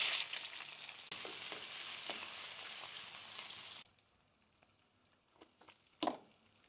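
Onions frying in soybean oil give a loud, steady sizzle for almost four seconds, then the hiss cuts off abruptly, leaving a quiet stretch of light crackles and one sharp knock or scrape near the end.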